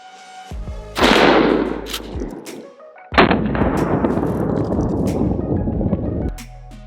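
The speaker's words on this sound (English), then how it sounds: "we'll see how it handles this buckshot load" A 12 gauge Challenger mini shell buckshot load fired into ballistic gel outdoors, two loud sharp shotgun blasts about two seconds apart, each followed by a long rumbling echo.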